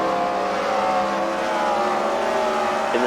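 Wrecker race cars roar around a track at a night fight-night event, a dense, continuous engine drone heard from a distance with no break.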